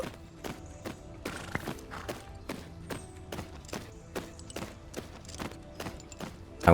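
A horse walks in the riding game Tales of Rein Ravine, its hooves clip-clopping in a steady, even rhythm of about two knocks per second, close and clear over a quiet background.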